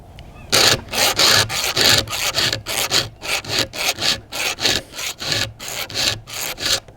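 A chainsaw chain being sharpened by hand with a file, a steady run of rhythmic rasping strokes, close and fairly loud, each pass a short gritty scrape with brief gaps between.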